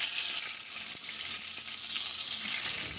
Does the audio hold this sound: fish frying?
yes